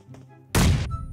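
A grenade is thrown onto a roof in a first-person shooter video game: one abrupt, loud burst cuts through near-quiet and fades after a fraction of a second.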